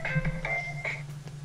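Short electronic phone ringtone of a few quick tonal beeps in a brief melodic pattern, clear and moderately loud, heard alone.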